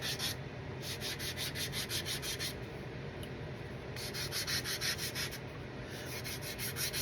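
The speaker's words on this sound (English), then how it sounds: "I'm sanding these edges down" Steady hand sanding of wooden part edges with rhythmic scraping strokes in bursts, a brief pause between runs, close and fairly loud with no talking.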